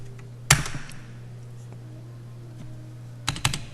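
Coordinate values typed on a computer keyboard during a CAD modeling lesson: a short burst of key clicks near the start, then a quick cluster of keystrokes near the end, close and crisp over a low steady hum.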